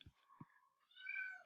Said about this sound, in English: I don't know if you guys can hear my kitty in the background.